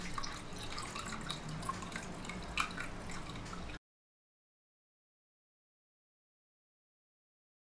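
Liquid poured and dripping into a mixture while 70% antiseptic alcohol gel is made up to one kilogram: a faint, busy trickle and splashing for a few seconds, then silence.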